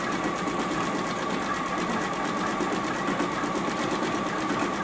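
A JUKI sewing machine running a decorative stitch on a beverage coaster, a steady, fast, close mechanical whirring with an even rhythmic pulse throughout.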